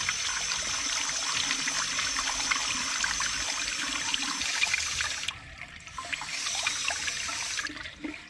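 Water runs steadily over Honda NSR50 moped parts being rinsed during a restoration, a continuous close splashing hiss that dips briefly before resuming, with no talk.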